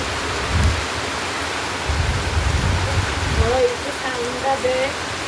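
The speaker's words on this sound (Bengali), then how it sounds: "কানে বৃষ্টির শব্দ শুনে তোমরা নিশ্চয়ই বুঝতে পারছো কতটা পরিমাণে বৃষ্টি শুরু হয়ে গেছে" Heavy rain pours steadily as a dense, even hiss of falling water, close and loud throughout, with a few faint birdlike chirps and brief low thumps rising through it near the end.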